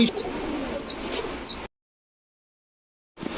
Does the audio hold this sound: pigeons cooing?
yes